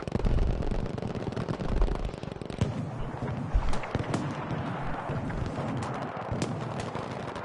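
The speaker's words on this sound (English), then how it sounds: "Because I know it's going to blow up, I want to watch it." Booming explosion in the battle video game Frontlines, one heavy blast standing out from a dense, continuous clatter of rapid gunfire and distant detonations.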